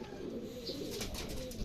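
Racing pigeons coo and flutter in a loft after a training flight, low soft cooing mixed with a steady background hum, fairly close but not loud.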